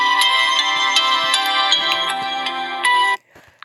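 Samsung Galaxy J3 ringtone named Geology, a bright, melodic tone playing steadily and loudly for about three seconds with repeated chime-like accents, then cutting off abruptly into near silence.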